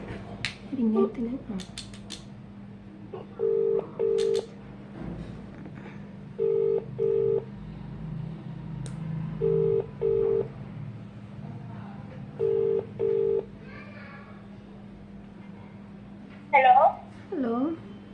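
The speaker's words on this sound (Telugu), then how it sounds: "రింగ్ అవుతుంది." An Indian phone call's ringback tone repeats in paired bursts, four double rings spaced evenly and moderately loud, with soft background noise and a voice speaking briefly near the end.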